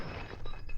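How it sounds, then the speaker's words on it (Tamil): Glass breaks in a quiet indoor scene from a Tamil film, a brief, faint shatter with scattered tinkling fragments. "ஐயோ கிளாஸ் உடைஞ்சிருச்சு."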